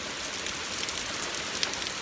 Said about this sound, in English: This is unusual how hard this rain is coming down right now